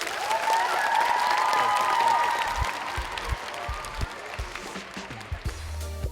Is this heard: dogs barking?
no